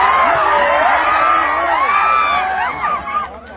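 A large crowd at a Chhath Puja committee stage event in Champaran shouts and whoops loudly and continuously, with the overlapping voices thinning out toward the end.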